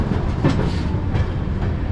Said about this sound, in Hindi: हमारी ट्रेन बढ़ चली है यहाँ से